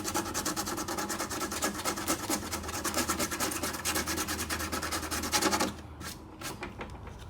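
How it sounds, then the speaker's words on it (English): Sandpaper rasps back and forth over wood in quick, rhythmic, closely spaced strokes, with a cloth-backed 60 grit paper smoothing a part for a Pilates Porter, then stopping abruptly and leaving only a few faint scrapes. "It just needs a little sanding. Now this is a 60 grit. It's really gonna sand it quick."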